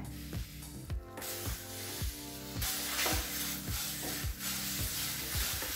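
Curry leaves dry-roast in a pan for curry leaf rice, giving a steady crackling sizzle that runs throughout beneath rhythmic background music.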